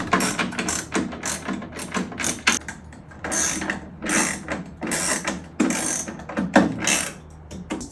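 A ratchet driving screws with a 1/2-inch socket while assembling an Ecto Containment Unit, with repeated close bursts of rapid pawl clicking in an uneven back-and-forth rhythm and no talk.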